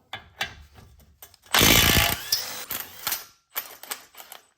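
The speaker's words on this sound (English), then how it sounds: "this is one of the first times I'm using this new Gen 2 Milwaukee stubby, and I'm really impressed" A Milwaukee Gen 2 stubby impact wrench removes a brake caliper from a BMW F2x/F3x xDrive front corner, firing in one loud, close burst of hammering, then followed by scattered clicks and clanks of handled parts.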